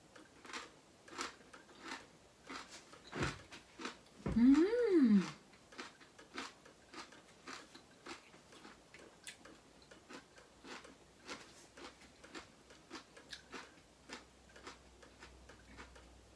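Close crunchy chewing of pickled spider flower vegetables, with steady rhythmic crisp bites repeating throughout and a brief louder vocal sound partway in.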